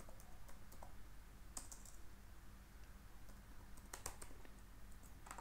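Typing on a computer keyboard during an Angular 10 coding tutorial: soft, close key clicks in irregular short runs, with a few sharper taps standing out over a quiet background.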